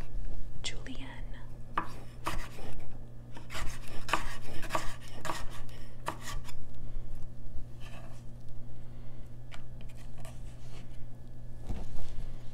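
Knife chopping produce into julienne strips for guacamole, a run of crisp, close cutting taps against a board, irregular and repeated, over a steady low hum, with a faint whisper now and then.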